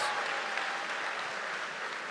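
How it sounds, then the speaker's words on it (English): Dense, steady applause from a large crowd of incoming university students at a welcome event in Madrid, continuous and even from start to finish. "Give yourselves a huge round of applause."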